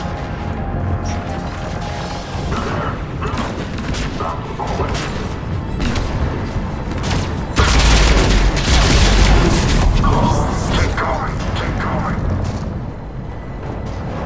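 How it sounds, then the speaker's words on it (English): Cannons fire in the sci-fi video game Mass Effect 3, with heavy booms and crashing impacts repeating over dense mechanical battle noise, loud and close, while characters talk over the din. "Those cannons have to be stopped."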